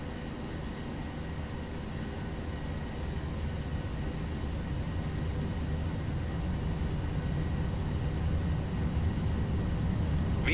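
A Ryanair airliner's engines in a flight simulator spool up toward takeoff power, a steady dense broadband roar that swells slightly and holds for the full stretch with no voices.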